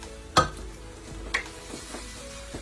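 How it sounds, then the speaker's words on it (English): Whole spices crackle and sizzle in hot ghee in a pan for an Indian-style fish curry, with a sharp clatter at the start and a few stirring scrapes over a low, steady fry. "I'm now going to fry the spices."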